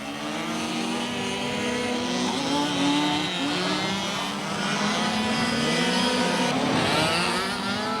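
Race cars in the Yankee Europa Control Cup 1989, engines droning loudly and continuously as they pass close by, pitch rising and falling with revs and gear changes over a steady roar.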